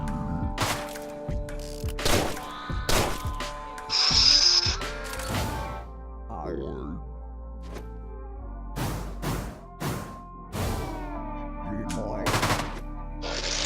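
Gunfire in the shooter game Deadbolt, scattered loud shots and mechanical clunks arriving in separate bursts across the stretch, between quieter gaps with some talking.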